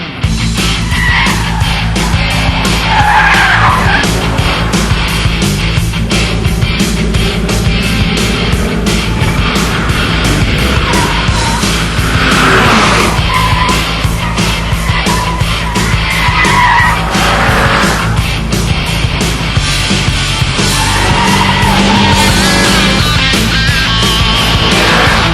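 A Lotus Elise fitted with a rear diffuser is driven hard around a race track, its engine roaring loudly and steadily with tyres skidding throughout, under a continuous dense wash of noise.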